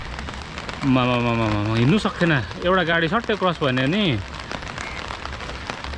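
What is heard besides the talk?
rain falling in Siliguri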